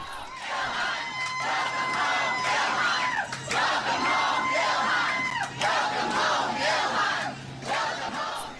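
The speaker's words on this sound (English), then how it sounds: "Congresswoman Ilhan Omar returning to a cheering crowd in her home district of Minnesota yesterday" Dense crowd at a political rally in Minnesota for Congresswoman Ilhan Omar's return home, roaring and chanting in a loud, sustained wall of voices with surging shouts, no single speaker standing out.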